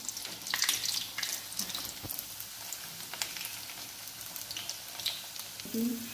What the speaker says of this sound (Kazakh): Міне чебурекимізді қуырамыз.